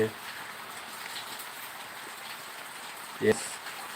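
Rain falls as a steady, soft hiss. A short vocal sound rises briefly near the end.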